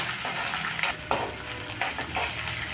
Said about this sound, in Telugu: మెంతులు ఎండుమిరపకాయలు పచ్చిమిర్చి కూడా వేసేసేయండి ఒకసారి కలపాలి